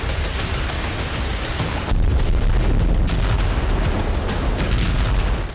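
Russian army artillery bombards a front in Ukraine, a loud, dense wall of booming rumble that rolls on without pause and grows heavier partway through.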